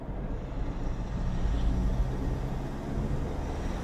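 A low diesel engine drone fills the cabin of a Renault Duster, swelling in loudness midway as the vehicle accelerates, with a steady rumble and no talking.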